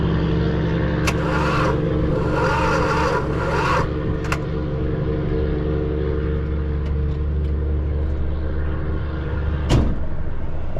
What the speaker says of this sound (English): We got it to turn over. It just doesn't have a real good charge on it.